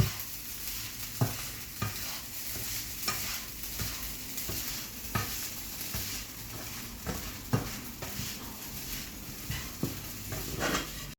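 Shrimp fried rice being stir-fried in a pan, with a steady sizzle under repeated scraping and clacking of a spatula against the metal at a loose, regular rhythm.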